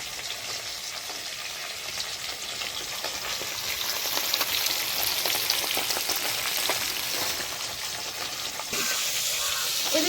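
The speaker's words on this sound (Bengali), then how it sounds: "আমার মাছ ভাজা হবে" Fish frying in a pan of hot oil, a loud, continuous close-up sizzle and crackle that swells slightly midway and carries on without any talking.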